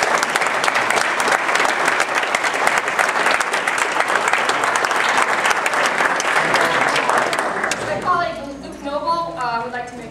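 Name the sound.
audience applauding Angela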